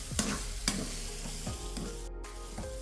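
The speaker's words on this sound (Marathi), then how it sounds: "पूर्ण मोकळी होईपर्यंत आपण असे तेलामध्ये परतून घेणार आहे." Crumbled dal is stir-fried in oil for watli dal, a soft, low sizzle broken by a few rhythmic scraping stirs of the spoon against the pan.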